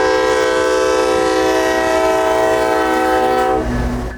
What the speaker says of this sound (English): we would immediately be surprised with some Canadian Pacific locomotives.